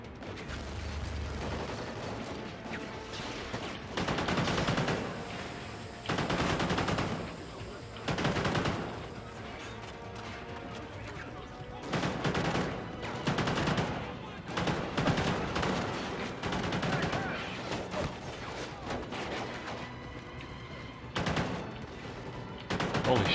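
Bursts of AK-12 rifle fire in Call of Duty: Ghosts, several loud volleys of rapid automatic shots separated by short pauses, with mechanical clanks and game ambience between them.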